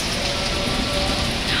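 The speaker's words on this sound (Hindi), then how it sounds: "ओले पड़ रहे हैं" Hail pelts down during a cold storm, a dense, loud, continuous clatter and hiss of pellets striking surfaces close by, steady with no pauses.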